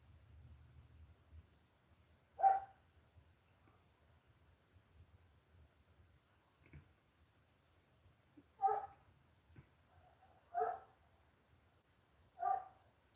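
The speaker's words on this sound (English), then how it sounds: "There's a ton of dogs barking around too" Several neighbourhood dogs bark from a distance. Four or five separate, fairly faint barks are spread across a quiet background, with long pauses between them and no talking.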